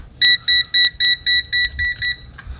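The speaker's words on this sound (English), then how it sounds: "it gives you that nice alarm letting you know that, hey, you got to change ranges" A cheap VENLAB VM-600M digital multimeter sounds its over-range alarm: eight short, shrill electronic beeps in a quick, even series, close and loud, with the last few slightly softer before it stops.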